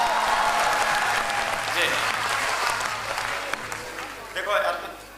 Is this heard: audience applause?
yes